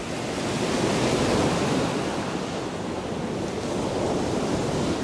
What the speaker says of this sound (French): Mais là, la mer, elle redescend.